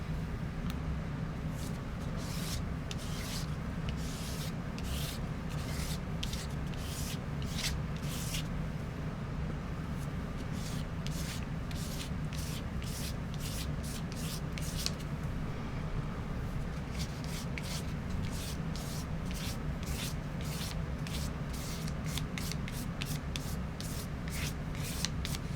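A brush lays a very thin coat of gesso over paper patchwork in quick, rhythmic scratchy strokes, close and steady throughout, with no voices.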